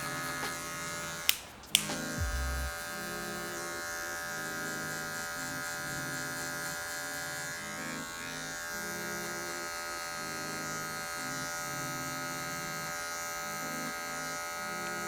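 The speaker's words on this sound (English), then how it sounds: "Kind of using the clipper" An electric hair clipper fitted with a 0.5 guard buzzes steadily as it cuts hair during a skin fade, a close, continuous hum with slight shifts in tone as it moves over the head, after a couple of brief knocks near the start.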